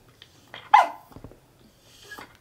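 A single sharp dog bark stands out near the start, followed by a few softer yelps and whimpery sounds in an otherwise quiet room.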